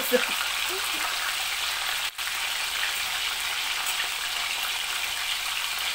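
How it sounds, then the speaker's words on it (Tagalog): Food frying in hot oil while cooking a budget Filipino dish, a steady close sizzle and crackle running unbroken throughout, with a brief dip partway through. "Habang nagpiprito"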